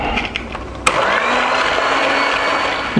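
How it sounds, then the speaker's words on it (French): Eggs and sugar being whisked with an electric mixer for a lemon tart filling, a steady close whirring drone with a brief click near the start. "Donc on va fouetter."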